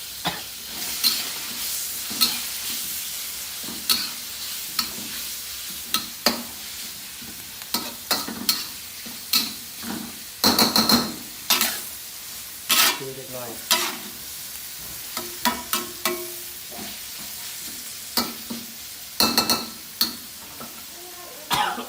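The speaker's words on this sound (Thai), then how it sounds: "ก็เลยมาทำเป็นเมนูผัดกะเพราไปเลย" Leftover grilled beef sizzles in a hot pan while a utensil scrapes and tosses it in quick, irregular strokes for Thai basil stir-fry; a cough breaks in once.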